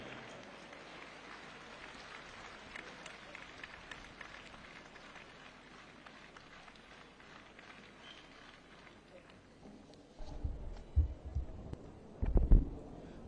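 Applause greeting the chief guest, the Haryana Chief Minister, at the opening ceremony of the 72nd All India Police Wrestling Cluster 2023, swelling in after a long low crowd murmur into loud crowd clapping with sharp peaks near the end.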